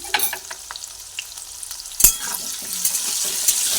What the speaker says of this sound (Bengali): এক এক করে আলু পটল আলাদা আলাদা করে ভেজে নিচ্ছি